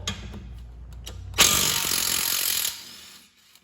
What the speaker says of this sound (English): I'm going to take my E18 socket to remove the bolt